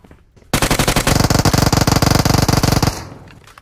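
Rapid automatic gunfire from a UG weapon in a mobile shooter game, shot from a house across the way, with a loud, dense burst of evenly spaced shots lasting about two and a half seconds before it cuts off.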